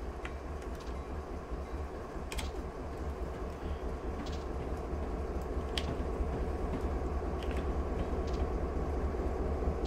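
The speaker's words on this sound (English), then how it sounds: "And there's our train coming through." Freight train of centerbeam cars rolling past at a slow, steady speed on Stevens Pass in Train Simulator 2019, a dense continuous low rumble with faint metallic clinks and squeals.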